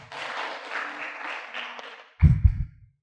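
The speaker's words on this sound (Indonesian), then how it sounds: "Tepuk tangan untuk kelompok 1" Classroom applause for a student group after its presentation: a short burst of clapping from pupils, rising suddenly after a dense, bright stretch of noise and dying away within half a second.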